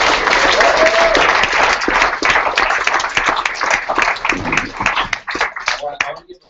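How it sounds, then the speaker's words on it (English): Loud, dense applause from a hackathon crowd, sustained clapping with a few cheers, thinning out into scattered claps near the end. "Like you all deserve a round of applause just for like hacksmanship."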